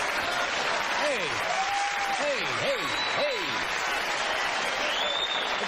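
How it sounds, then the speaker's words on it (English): A late-night talk show studio audience boos, a sustained crowd murmur with drawn-out wavering vocal tones rising and falling, and a brief shout breaking through. "Oh, you're booing."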